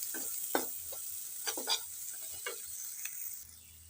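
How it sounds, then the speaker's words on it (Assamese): Turmeric frying in a pan while being stirred, giving soft scraping strokes at irregular intervals over a faint steady sizzle, close and fairly quiet. "অকণ সময় ভাজি থাকিম এনেকৈ।"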